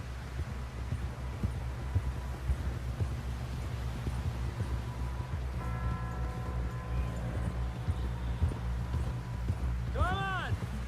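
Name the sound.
horse hooves on the ground in video game Red Dead Redemption 2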